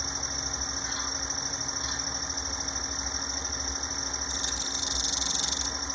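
Wood lathe turning a wooden jar lid, a steady humming motor drone with a faint rhythmic vibration and a brief rise in high scraping noise near the end.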